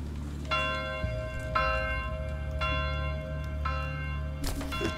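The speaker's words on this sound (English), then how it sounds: "The church bells are ringing." Church bells ring out in the medieval city-builder game Manor Lords, with clear metallic strikes about once a second, each leaving a long, sustained ringing tone over a steady low drone and no voices.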